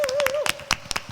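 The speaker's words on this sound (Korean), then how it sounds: "우리 하나님께 감사의 박수 올려드리겠습니다." A congregation at an online Korean children's worship service claps in thanks to God, a few scattered, fairly close claps over a sustained musical tone, with a voice speaking.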